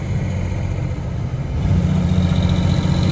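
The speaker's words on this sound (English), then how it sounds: "Let's see what the old Ford's made of. Giving her the gears." Old Ford truck engine running and revving as it is put through the gears, a loud, steady, low rumbling drone that rises slightly in intensity partway through.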